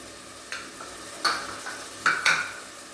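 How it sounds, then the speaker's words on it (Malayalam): Green chilies and chopped ginger being stirred in a hot pan, giving a few short scraping and sizzling bursts against a low background hiss, with no voices. "ഇതെല്ലാം കൂട്ടിയിട്ട് നന്നായിട്ടൊന്ന് വഴറ്റിയെടുക്കുക."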